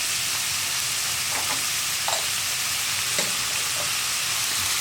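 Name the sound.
onions frying and being stirred in pan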